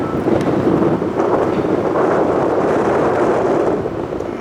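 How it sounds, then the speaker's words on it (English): Strong wind buffets the microphone with a constant loud, rough rumble and no pauses, high up at a downtown Toronto apartment overlooking Lake Ontario. "It's a little windy"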